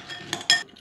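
A utensil stirs oil and corn booster in a small container, giving two or three quick close clinks in under a second.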